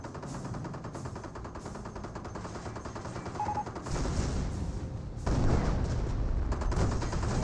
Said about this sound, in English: your snipers do take out that Wehrmacht sniper